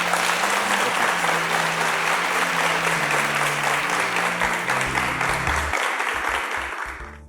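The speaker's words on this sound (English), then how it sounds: "Please, a round of applause for them." A large studio audience on a Nigerian quiz show applauds loudly and steadily for several seconds over background music, then the clapping fades out.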